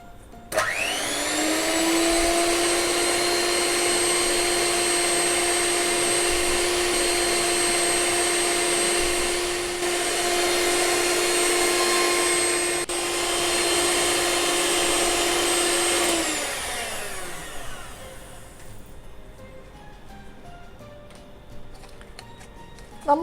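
Electric mixer beating Christmas fruit cake batter with a teaspoon of lemon juice, a steady high motor whine running close for about sixteen seconds before spinning down, leaving a quieter hiss.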